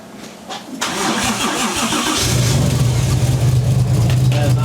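A 1JZ engine in an S13 240SX cranks and fires, catching after about a second and settling into a loud, steady, rough idle close by, with voices talking briefly near the start.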